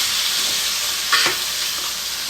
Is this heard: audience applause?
no